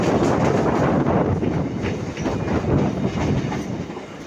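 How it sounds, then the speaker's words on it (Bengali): A Ranaghat–Gede local train pulls out of Majhdia station, its wheels clattering steadily and loudly over the rails, the rumble continuous throughout with no voices. "তো আমাদের ট্রেন এখন মাঝদিয়া ছেড়ে যাচ্ছে বার্নপুরের দিকে।"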